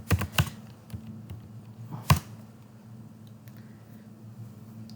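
A few sharp computer keyboard keystrokes close by, a quick cluster at the start and another single press about two seconds in, as a Ctrl S save is hit, followed by low hum.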